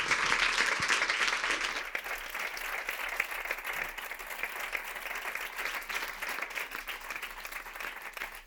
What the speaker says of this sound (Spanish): Un aplauso enorme a Isabel, por favor.